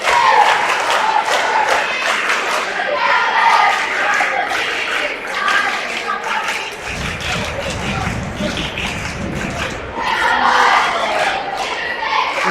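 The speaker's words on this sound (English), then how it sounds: "The DC cheerleaders and the USN cheerleaders are grabbing the attention of their crowd at the same beat." Cheerleaders from two school basketball teams lead their crowds in a DC versus USN game, a dense wash of crowd noise, shouting and chanting filling the gym steadily, with a low rumble of stomping or drumming joining midway.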